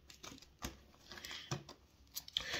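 A 4K steelbook Blu-ray package is unboxed up close: sharp plastic crinkles, tears and taps come in scattered bursts with nobody speaking.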